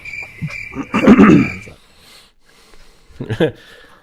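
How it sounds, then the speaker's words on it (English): A cricket sound effect chirps in a thin, steady trill that drops in and out, while people talk loudly over and around it. "crickets."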